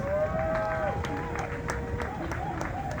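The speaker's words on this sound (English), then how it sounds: "Shall we please give him a round of applause?" Crowd applause following the Ghana Independence Day address by the President, a continuous wash of clapping from a large audience with a sustained tonal hum running through it.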